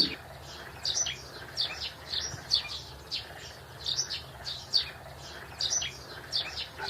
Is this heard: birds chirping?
yes